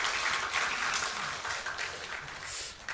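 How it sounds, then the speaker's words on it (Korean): Church congregation clapping during a Sunday worship service, a soft, steady patter of many hands that holds for a few seconds and fades slightly at the end, with no talk over it. "박수 한번 해줘요."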